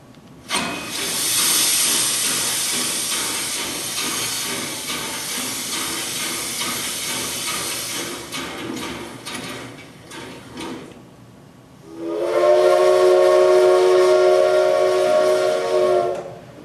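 A steam train hisses loudly and steadily for several seconds, breaks off briefly, then a strong, sustained steam whistle blows near and loud.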